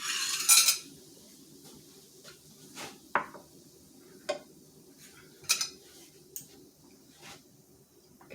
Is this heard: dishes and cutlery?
yes